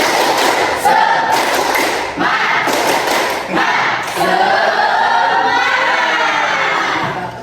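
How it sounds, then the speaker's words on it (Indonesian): A class of students performs a spirited 'tepuk semangat' group clap, with loud clustered claps and thumps in a patterned rhythm, mixed with children shouting and cheering nearby. "Yuk, tepuk semangat."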